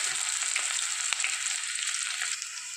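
Crushed garlic fries in oil until browned for a home-style pumpkin greens dish, making a dense, loud, continuous sizzle with faint stirring taps and no voices.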